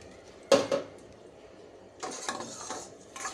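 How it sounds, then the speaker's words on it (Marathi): Washed split yellow moong dal tipped into a cooking pot for an Indian-style veg thali: one sharp clatter of grains and metal, then a longer, looser rattling spill a moment later, close and fairly quiet with no talking. "आता यामध्ये आपण टाकूया, हे बघा, ही स्वच्छ धुतलेली पिवळी मुगाची डाळ"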